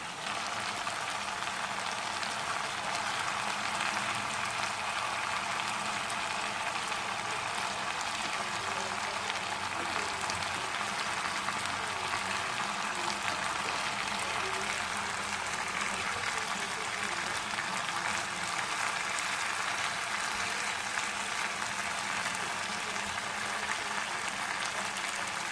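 Chicken frying in ghee in a karahi, a steady broadband sizzle and crackle that runs without a break for the whole stretch at a fairly even level, with no speech over it.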